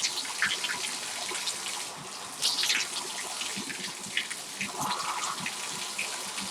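Water gushes steadily from a Moen tub/shower faucet with a 1222 cartridge opened to full flow, a continuous broadband hiss with slight fluctuations and no talking.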